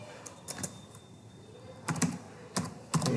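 Fingers tap a computer keyboard in short, quick bursts of crisp plastic clicks separated by brief pauses, heard up close over a quiet room hum.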